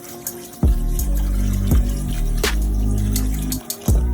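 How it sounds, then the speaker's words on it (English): Water runs steadily into a pot of pinto beans on the stove, a continuous close pour with a few short breaks and clunks where the stream shifts or stops. "make sure you add enough water to cover them back up"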